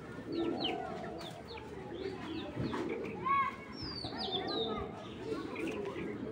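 Pigeons in a loft coo softly while short chirps and a few wing flaps sound nearby, with a person talking over the birds throughout.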